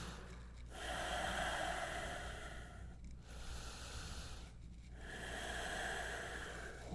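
Slow, deep breaths during a yoga hip-opening stretch, long audible inhales and exhales close to the microphone with brief pauses between them.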